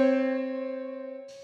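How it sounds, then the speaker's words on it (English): Two sustained tones sounded together in a harshly dissonant 63/31 frequency ratio, a steady electronic-sounding interval with rich harmonics that holds alone for over a second, fading slightly, then a brief noisy burst at the very end. "63 over 31 sounds like this"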